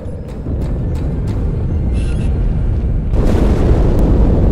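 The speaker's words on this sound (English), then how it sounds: "That explosion came from inside the Athens." Explosion aboard the Athens ship in the Halo 2 video game, Cairo level: a deep, sustained rumbling roar that swells louder near the end, with no voices.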